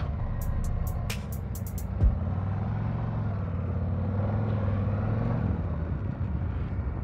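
A 2023 Harley-Davidson CVO Street Glide motorcycle idles with a steady low rumble, a brief sharp blip near the start, then pulls away as the engine note rises and holds, close and continuous, with no talking.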